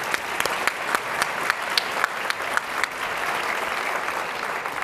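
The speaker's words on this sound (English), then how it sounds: "Give them another round of applause." An audience gives speakers another round of applause at a monthly talk event: full, dense clapping from a sizable crowd, loud and steady throughout, with occasional sharper claps standing out.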